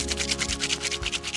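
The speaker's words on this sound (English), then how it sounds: "So to break that up, you can just put it between your hands. Just rub it." Dried leaves rubbed between two hands give a close, rhythmic rustling and scratching in quick repeated strokes, with no voices.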